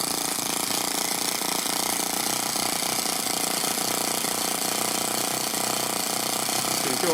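A miniature Toyan FS-S100AC four-stroke kit engine idling as slowly as possible, giving a steady, even mechanical chatter that stays constant and fairly loud throughout, with no talk.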